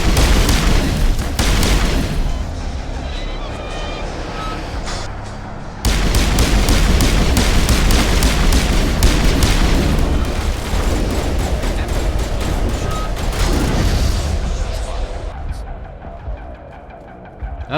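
Grenade blasts and heavy combat in the video game Mass Effect, loud booming explosions and rapid gunfire layered densely throughout, with a sharp jump in intensity partway through before fading at the end.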